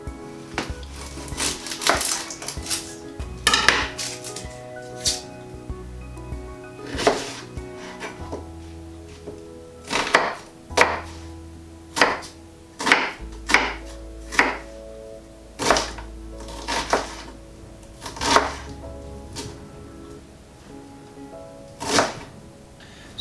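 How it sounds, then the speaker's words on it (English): Knife chopping onions and peeled butternut squash on a board, a loose series of sharp, fairly close thuds at uneven intervals against a quiet kitchen background, with no speech. "We're going to need to chop the onions and peel and chop the butternut squash as well."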